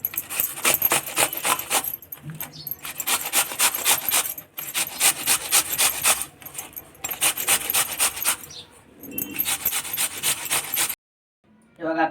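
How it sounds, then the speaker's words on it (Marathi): Cucumber is grated by hand for cucumber tavsale, a rapid rhythmic rasping of strokes in quick bursts with short pauses between them, close and fairly loud, ending in sudden silence. "काकडी किसून झाली"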